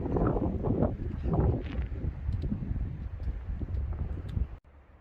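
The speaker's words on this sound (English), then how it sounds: "Oh, that is a delicious breeze" Steady wind rushes and buffets over the microphone on a desert hiking trail in Arizona, gusting louder at times, then drops suddenly near the end.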